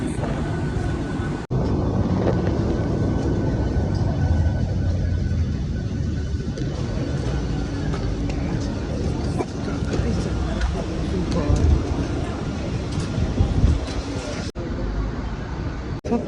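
Steady rumbling and rattling from inside a moving, crowded Mumbai suburban local train from Dadar toward Borivali, with wind rushing and indistinct background voices throughout.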